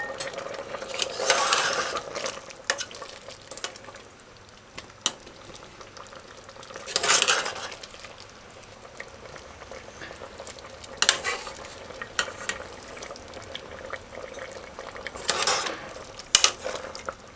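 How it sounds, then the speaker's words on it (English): A spoon stirs chicken's feet stew peas in a pot, making intermittent scraping swishes in several separate bursts over a faint background simmer, with no voices. "Stir gently."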